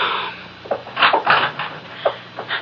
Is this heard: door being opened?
yes